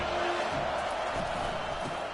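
Football stadium crowd at Baylor v USC, a sustained, dense roar of cheering and noise that fills the whole stretch at a steady, loud level.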